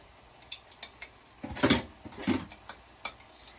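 A fork presses down on the edges of turkey and cheese empanada dough, making soft scattered taps and scrapes, with a couple of louder dull presses in the middle of the sequence.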